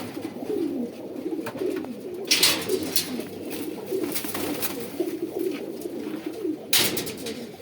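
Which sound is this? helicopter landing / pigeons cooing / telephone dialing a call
pigeons cooing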